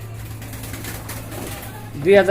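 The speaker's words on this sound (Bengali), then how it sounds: "রেসার কবুতর, সবজি রেসার, যারা সবাই চিনেন কবুতরগুলা।" Racer pigeons give a single short coo near the end, over a low steady hum and faint background chatter.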